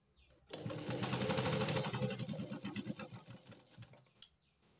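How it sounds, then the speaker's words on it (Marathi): A sewing machine runs a double line of stitching on a blouse seam, a fast rattling whir starting abruptly after a short pause and continuing steadily, then slowing and stopping, with a brief click near the end. "इथे मी डबल शिलाई करून घेणार आहे."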